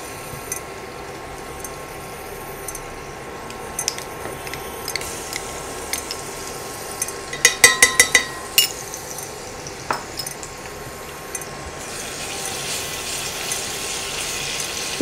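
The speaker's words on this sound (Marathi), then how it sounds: "आता, तर आपण त्याच्यात आलं लसूण घालणार आहोत।" Ginger and garlic go into hot oil with whole spices for Khandeshi-style bajra khichdi: quiet cooking sounds, a quick run of metal spoon clinks against the pan midway, then a steady soft sizzle rising toward the end.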